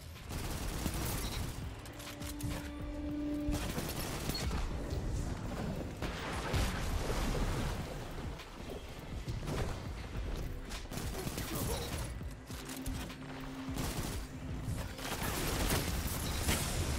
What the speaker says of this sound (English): There's like fireworks or gunshots going on outside my house.